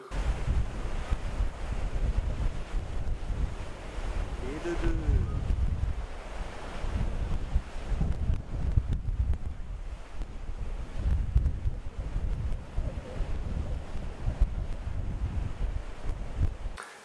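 Strong wind of at least 25 knots blasts across a kitesurfing beach, a constant roaring buffet against the microphone mixed with crashing surf, loud and unbroken throughout.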